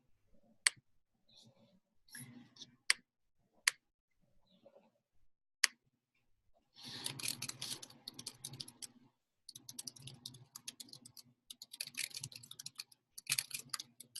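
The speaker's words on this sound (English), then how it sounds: "I'm typing a lot faster than it's appearing on the screen." Rapid typing on a computer keyboard, scattered single key clicks at first, then dense bursts of fast keystrokes, close and moderately loud with no talking.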